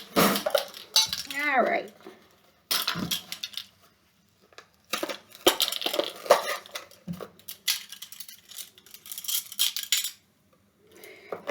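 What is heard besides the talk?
measuring spoons clinking while fetched for baking soda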